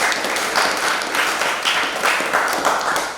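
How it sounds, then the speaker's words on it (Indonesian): A classroom of students claps together for about three seconds, a dense, fairly loud patter of hands that rises and falls in gentle waves. "Ya. Tepuk tangan."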